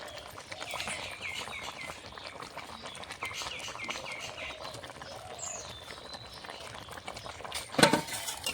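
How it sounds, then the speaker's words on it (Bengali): Bata fish and potato curry with spinach boils in a pan, giving a steady, faint bubbling simmer throughout, broken near the end by a single louder metallic clink; there is no talking. "তরকারিটা ফুটে উঠেছে।"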